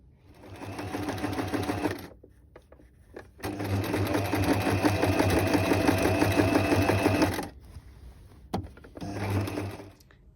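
Sewing machine stitching a jacket lining to the top edge of a quilted outer jacket at a 1.5 cm seam allowance, running in two long bursts with a short final spurt, close and steady, no talk.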